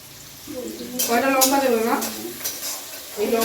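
Food sizzles and is stirred in a pan in a home kitchen, a steady frying hiss with scraping strokes, and a voice talks over it partway through.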